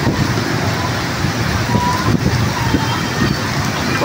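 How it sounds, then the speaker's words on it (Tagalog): A torrential evening downpour in the Philippines roars steadily and loudly, with a dense wash of rain and wind noise and no breaks. "Ayan, napakalakas ng ulan."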